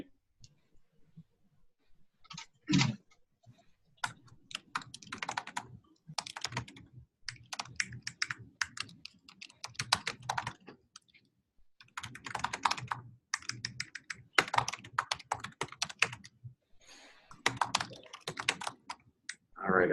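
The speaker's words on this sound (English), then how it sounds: "So while Dan's typing" Bursts of rapid keystrokes clatter on a computer keyboard, close and clear, separated by short quiet pauses, with occasional heavier key presses.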